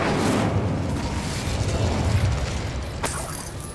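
An Incendio fire spell in the video game Hogwarts Legacy, a continuous roaring burst of flame filling the clip, ending with a sharp crackling pop near the end.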